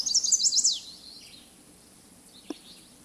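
A chestnut-sided warbler sings one bright, rapid run of high whistled notes at the start of a boardwalk by a pond. The song ends quickly and a short faint tick follows in a quiet outdoor setting.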